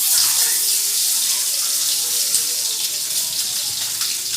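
Eggs fry one at a time in a pan for a potato and lentil egg curry. A steady, bright sizzle hisses without a break, close and fairly loud.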